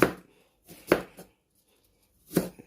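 Knife slicing Thai eggplant on a cutting board, three short separate clusters of crisp chopping strokes with quiet gaps between them, close and fairly soft.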